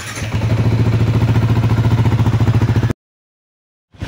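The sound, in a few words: Yamaha Sniper 155 VVA motorcycle running with radiator fan on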